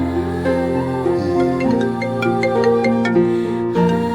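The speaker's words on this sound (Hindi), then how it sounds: "अरे दीदी का फोन आ रहा है।" A melodic phone ringtone plays steadily, its electronic tune looping with clear repeating notes, loud and close.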